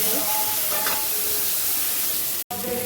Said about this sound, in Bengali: এটা একসঙ্গে তেলের উপরে লাল করে পেঁয়াজটা ভেজে নিয়ে মশলাটা দিয়ে